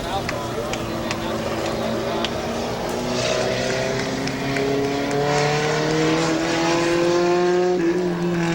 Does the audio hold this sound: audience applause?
no